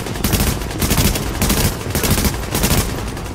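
Rapid automatic gunfire from Tom Clancy's The Division crackles in loud repeated bursts with short gaps, dense and close throughout.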